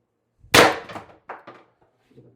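A single sharp test shot cracks from a homemade X-68 Stormtrooper blaster build, a loud close pop followed by a few fainter clattering knocks and then quiet.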